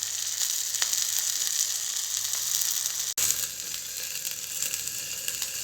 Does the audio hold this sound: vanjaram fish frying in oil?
yes